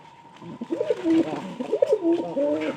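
Pigeons coo close by, low throaty rolling calls repeating in a steady rhythm.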